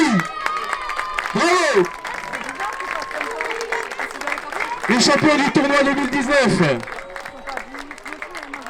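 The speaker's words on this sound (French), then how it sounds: "Très bon, on les applaudit" Applause from a crowd at a youth under-11 tournament prize ceremony in Foix, with steady clapping under someone talking over a loudspeaker, swelling into a louder burst midway.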